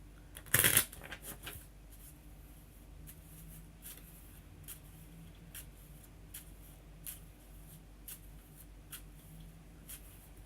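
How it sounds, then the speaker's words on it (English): A loud riffle of tarot cards at the start, then soft, scattered card flicks and slides, quiet and close. "One more"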